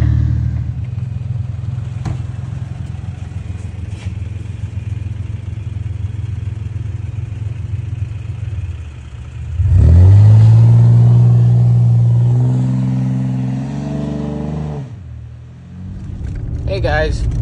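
A Ford Ranger with a new wheel bearing pushes through mud in four-wheel drive, its engine droning steadily, then surging into a loud revving climb with a rising whine before easing off, while people talk over it.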